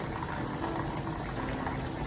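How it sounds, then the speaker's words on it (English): Hot cooking water poured off boiled vegetables for a peanut butter soup, a steady close gushing pour that runs evenly without pause and without talk. "what we need now to do is to drain this water"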